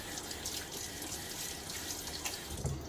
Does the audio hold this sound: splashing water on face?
yes